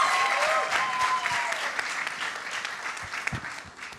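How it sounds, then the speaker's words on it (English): A room full of people at a panel discussion claps in sustained applause, dense and lively at first, then gradually thinning and fading. "give our amazing panelists one large round of applause"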